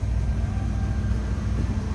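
A 1971 Chevrolet El Camino engine idles at a steady low rumble, close and continuous, with no loud exhaust.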